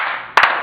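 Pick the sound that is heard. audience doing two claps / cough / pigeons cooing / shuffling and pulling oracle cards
audience doing two claps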